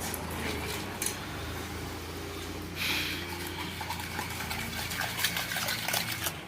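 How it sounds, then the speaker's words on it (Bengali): Spiced liquid seasoned with cumin powder boils in a pot for street-food-style steamed bread and egg toast, giving a soft, steady gushing bubble at low level with no talking. "এতে জিরা গুঁড়ো দেখুন সমস্ত মশলা আমি দিয়ে দিয়েছি দিয়ে ভালো করে আমি ফুটিয়ে দিচ্ছি"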